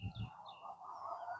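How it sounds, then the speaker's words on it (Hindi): Birds chirp on the Central University of Jammu campus: a few thin, high calls repeat over soft outdoor ambience, faint and somewhat distant. "यहाँ पर चिड़िया की आवाज है"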